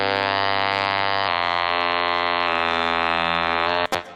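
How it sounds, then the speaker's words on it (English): A synthesizer run through the Waves OVox vocal resynthesis plugin plays loud, sustained buzzy chords that change pitch three times, then cut off abruptly with a short burst at the end. "as you can see now, we have OVox straight on the synth"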